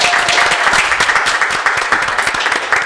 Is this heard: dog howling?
no